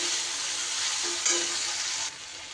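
Spice paste sizzles and fries steadily in a pan during cooking of a taro (kochu) dish, a continuous close hiss with a brief stir-like flare in the middle before the sizzle settles slightly quieter.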